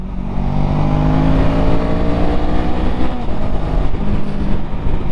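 A 2022 Honda Rebel CMX500 motorcycle accelerates to overtake traffic, a loud, close engine roar with buffeting wind noise, rising steadily in pitch throughout.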